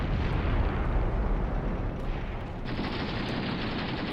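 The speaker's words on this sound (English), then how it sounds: "And those are actually just grenade throws there" Grenade blasts thrown at an APC in a 1980 Middle East war game battle at Khorramshahr, a dense continuous roar of explosive rumble that drops slightly and brightens with debris hiss partway through, with no talking.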